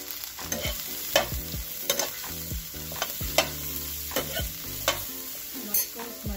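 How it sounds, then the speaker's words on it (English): Okra sambar stirred on a stove as it heats, with a gentle sizzle under repeated clacking and scraping strokes of a spoon against the pot at an uneven rhythm. "let's go and give this a nice stir on the stove and heat this up"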